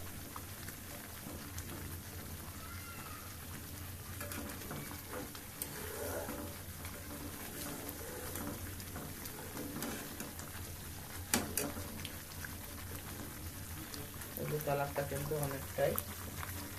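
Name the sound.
milk cream boiling into homemade ghee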